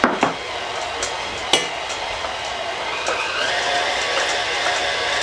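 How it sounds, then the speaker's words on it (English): A stand mixer kneads Easter bread dough in a steady, loud churning whir, with occasional clacks and knocks from the bowl as the dough turns, no voices. "we are just going to let this knead until it comes into a soft ball, smooth soft ball"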